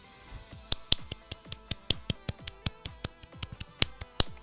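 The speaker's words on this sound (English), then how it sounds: "Golf clap for some sense." A golf clap: sparse, light hand claps or snaps in an irregular but steady rhythm, close and crisp, about a dozen and a half distinct pops with no talk over them.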